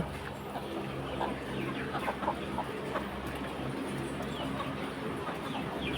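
Chickens and chicks cluck softly in the background, scattered short calls over a steady low rumble, with no one speaking.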